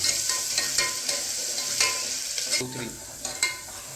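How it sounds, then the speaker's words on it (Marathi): Onion frying in a pan with salt for mutton pickle, a close sizzle broken by frequent spatula stirs and scrapes against the pan, with a brief louder clatter near the end. "कांदा चांगला भाजून घ्यायचा आहे"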